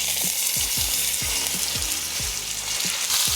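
Pork tenderloin sears in hot olive oil in a skillet with a steady, close hiss of frying. Soft low thumps recur about every half second beneath the sizzle.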